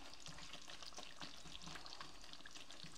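Rohu fish head frying in an oil-filled pan, a steady dense crackle and sizzle running continuously and fairly quietly throughout, with faint stirring clicks and no voices.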